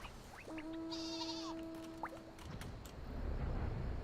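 A sheep mount in Final Fantasy XIV gives one clear, drawn-out bleat with a wavering tone, rising out of steady game ambience and fading before a louder rushing whoosh takes over.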